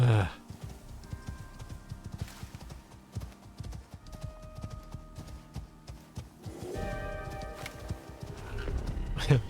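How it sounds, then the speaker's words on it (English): Horse mount footsteps in the survival game Icarus, a steady crunchy clip-clop of hooves plodding along, louder at the start and end, with a voice speaking briefly in between. "Describing the sounds your horse's legs make as crunchy is a very bad thing."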